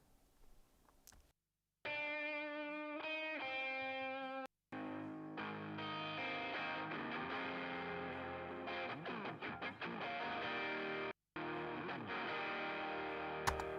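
A music mix heavily distorted through a Pulsar Modular MDN P252 diode unit, thick and saturated, with brief dropouts into silence between sections and no voices.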